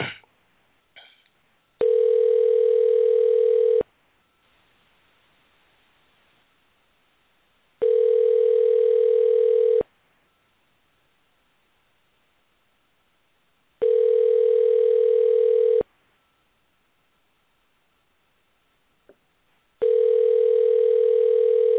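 An outgoing telephone call rings through with four loud, steady ring tones of about two seconds each, spaced by roughly four-second silences, clear and alone.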